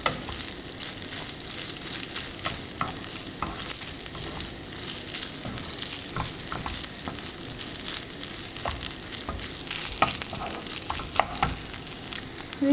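Spices fry in a pan with a constant close sizzle and crackle, punctuated by occasional scraping knocks of stirring, without voices.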